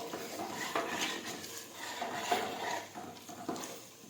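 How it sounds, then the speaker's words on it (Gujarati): Ground roasted gram and salted peanut masala being mixed into Gujarati undhiyu in a pot, heard as close, irregular clinks and scrapes of a spoon against the metal vessel with soft rustling in between. "હવે આપણે દાળિયા અને ખારી સિંગનો પીસેલો મસાલો નાખીશું. હવે ફરી પાછું મિક્સ કરી દઈશું."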